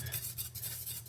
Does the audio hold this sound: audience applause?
no